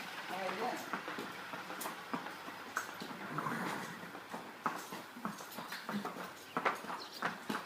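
A horse on a farm in Normandy moves nearby with irregular hoof clops and shuffling, under almost continuous talk from people close by.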